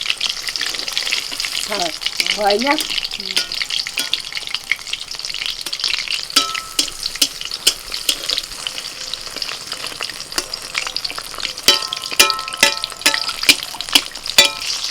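Cabbage pakora and cabbage-leaf chicken rolls fry in a pan of oil, a steady loud sizzle with crackling pops and occasional utensil scrapes and taps, and a brief voice early on.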